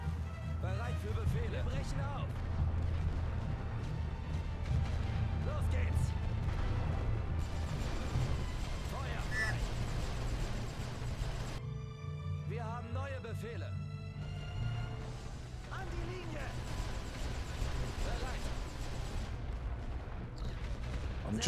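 Continuous battlefield din from the World War I strategy game The Great War Western Front, with rolling artillery rumble and scattered gunfire layered in a dense, steady roar, while someone talks over it.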